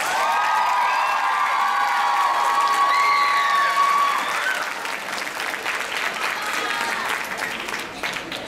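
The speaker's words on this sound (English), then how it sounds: "One more round of applause for our cosplayers!" A convention audience at an anime cosplay masquerade applauds the cosplayers with loud, sustained clapping, whoops and cheers, with a held tone and shouts over the crowd before the clapping thins out slightly.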